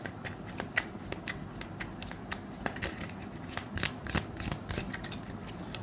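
Tarot cards being shuffled in steady, close riffling and sliding bursts with crisp snaps, continuing without talk.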